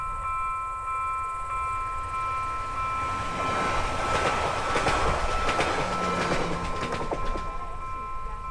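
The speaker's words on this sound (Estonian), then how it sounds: "See on meie rong. Nii vaikselt tuleb." A train rolls past fairly close, a steady rumble building with rhythmic clacking of wheels on the rails and a faint high whine.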